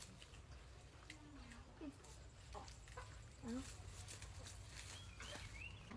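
Chickens cluck in short, scattered calls over a quiet, steady background, with one louder cluck midway and a few higher squawks near the end.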